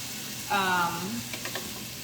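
Ingredients for steak with zucchini and peppers stirred in a pan on a lit burner, a brief scraping swish followed by a few faint clinks over a low steady background.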